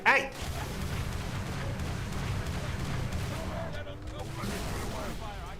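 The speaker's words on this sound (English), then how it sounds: "I hear gunfire." Rapid gunfire and booming weapon blasts rumble continuously in Halo 3, steady and fairly loud, with a voice talking over the game in places.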